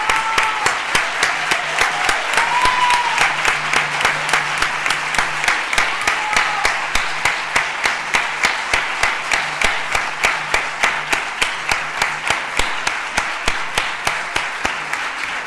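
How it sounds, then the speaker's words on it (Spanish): Warm audience applause honoring a career at a multidisciplinary conference on cardiopulmonary resuscitation, a long steady wash of many hands that turns into rhythmic unison clapping with evenly spaced beats. "recibe este aplauso como mínimo reconocimiento a tu trayectoria profesional"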